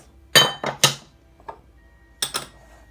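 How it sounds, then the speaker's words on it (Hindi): A spoon knocks sharply against a bowl while recipe ingredients are being mixed: three quick clinks, a faint tap, then two more close, bright strikes, alone in a quiet kitchen. "अब हम इसे करते हैं मिक्स।"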